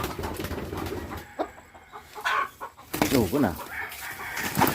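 Spangled Hatch gamefowl rooster (JBB Circle L) gives several short clucking calls, fairly close, amid background chatter and speech-like voices, with a louder burst of calls near the end.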